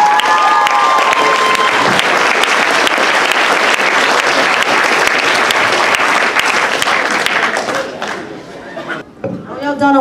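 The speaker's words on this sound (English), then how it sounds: "again, round of applause for Stacy" Loud audience applause for a costume contest entrant fills the hall with dense clapping and some crowd chatter, tapering off as voices take over at the end.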